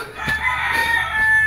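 A rooster crows nearby, a loud drawn-out call with a strained, high tone, heard on its own over faint outdoor background.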